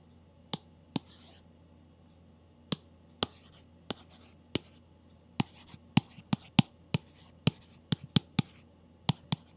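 A pencil writing on a Paperlike matte screen protector over an iPad, giving close, crisp tapping and scratching strokes in irregular bursts over a quiet background.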